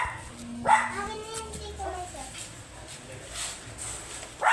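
A Shih Tzu gives a couple of sharp barks, one early and one at the end, with people talking quietly in the background.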